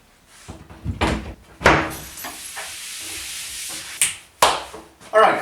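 A wooden cabinet door closes over a miter saw bench in a woodworking shop. It gives several sharp knocks and bangs, one after another, with a steady hiss or whir running between them.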